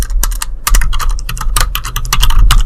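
Continuous, fast typing on a computer keyboard while writing HTML code: dense, loud runs of key clicks with short pauses between bursts, no voices present.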